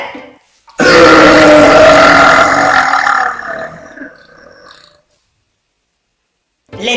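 One very loud, drawn-out burp from a young blonde woman rumbles for about three seconds and then fades, with silence before and after.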